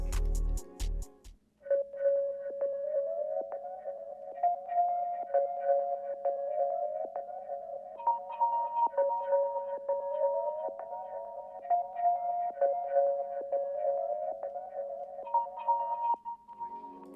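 The Portal preset Waiting plays as a soft background pad, a steady sustained tone with faint ticking, shimmering repeats, fairly quiet after a brief thump at the start.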